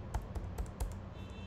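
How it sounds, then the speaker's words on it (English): Keys clack on a computer keyboard during a coding session, four quick, faint taps in an irregular rhythm. "Suppose I'm typing here"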